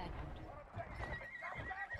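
Horse neighing loudly in the Battlefield 1 Suez Conquest battle, a whinny over hoofbeats and busy game noise, with someone talking excitedly over it.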